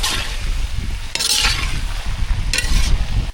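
Potato stir-fry being stirred in a pan after garam masala and chili powder go in, with scraping spoon strokes and a soft sizzle running throughout, plus a couple of brighter clinking scrapes.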